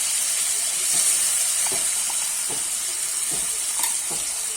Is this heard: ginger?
yes